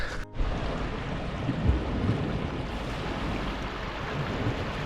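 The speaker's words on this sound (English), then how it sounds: "So those waves there, that's what the boat does" Waves from a passing passenger boat wash around a kayak on Derwent Water, a steady broadband slosh and surf with wind noise on the microphone, close and continuous after a brief knock at the start.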